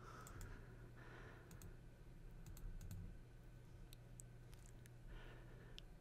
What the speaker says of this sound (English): Now you will type the email address that you want to forward your emails to.